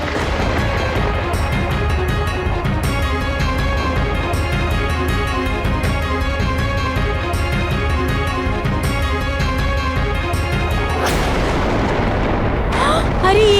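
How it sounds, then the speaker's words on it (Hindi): A volcano erupts in an animated series with a sustained barrage of heavy booms and blasts layered over a dramatic music score, ending in a rushing burst of noise. "ये तो और विस्फोट हो गया।"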